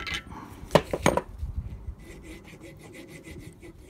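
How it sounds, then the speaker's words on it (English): A hand file working the end of a metal brake pipe flat, with a few sharp clanks at first, then a steady run of rhythmic rasping strokes, close and moderately loud. "Just keep the file straight and file the top till it's nice and flat."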